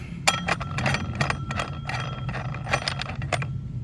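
A metal wrench fitting onto the nut of a brushcutter attachment gives a close series of sharp metallic clinks and ticks in an irregular rhythm over a steady low hum, with no talking.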